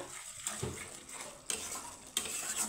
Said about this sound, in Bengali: সুন্দর করে মশলাটাকে আমি ভালোভাবে কষিয়ে নিব